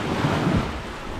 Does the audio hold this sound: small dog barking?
no